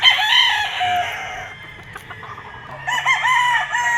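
A gamefowl stag at a game farm crows loudly and close, with two drawn-out cock-a-doodle-doo calls separated by a brief pause, and other fowl faint behind.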